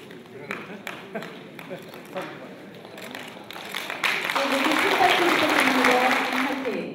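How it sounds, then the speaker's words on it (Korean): Scattered claps at a retirement ceremony for a city welfare director swell into fuller, sustained audience applause over the second half, with talk audible beneath. "자 여러분 모두 축하의 박수 보내도록하겠습니다"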